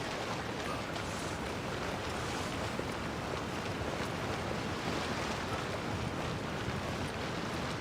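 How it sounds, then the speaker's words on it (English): Ocean waves at a harbor in Genshin Impact, heard as a continuous, even wash of surf and wind-like rushing that holds steady throughout without pauses or talking. "Are the waves here always like this?"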